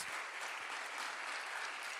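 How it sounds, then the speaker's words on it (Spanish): A church congregation gives a dense, steady round of applause, quiet and somewhat distant, continuing evenly for a couple of seconds. "Dele un aplauso."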